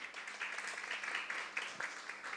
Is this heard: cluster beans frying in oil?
no